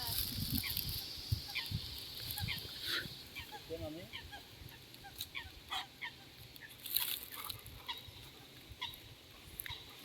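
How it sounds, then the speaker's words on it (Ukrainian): Wild ducks call at a lake in scattered, faint honks and quacks at a distance, rising and falling irregularly over a low outdoor background. "Там дикі качки, скільки там диких качок багато."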